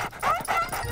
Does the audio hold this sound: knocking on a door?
no